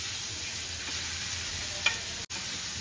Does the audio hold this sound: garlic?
yes